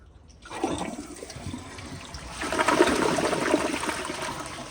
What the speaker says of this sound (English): the tank is full, so here is another flush